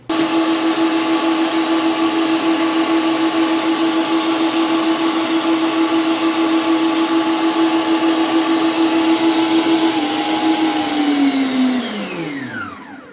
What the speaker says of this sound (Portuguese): A minha batedeira é planetária